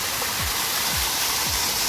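Large waterfall cascade at a hot springs monument in Caldas Novas: a loud, dense, steady roar of falling water, close and continuous, with low thumps underneath.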